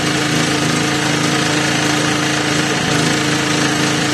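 A gas-powered generator, repaired after nearly 500 hours of running on gas, runs steadily at close range with a loud, continuous engine drone and rattle throughout, no voices.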